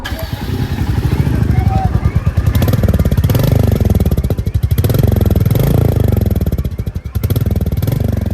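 Royal Enfield Meteor 350 motorcycle engine running close by, a loud, steady low thumping beat with a couple of revs that swell and fall back, and no voices over it.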